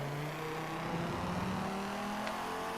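In Forza 7, a car drifts with a steady engine drone and tire noise, its pitch shifting through the slide. No one speaks.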